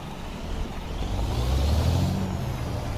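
A truck in American Truck Simulator releases its air brakes. There is a loud, steady engine rumble with a broad airy hiss that swells over a few seconds and then holds.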